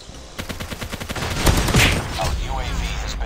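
Rapid gunfire bursts in a mobile shooter game using the legendary GKS Wanderer skin, a fast rattling volley of close shots, with a voice talking over it.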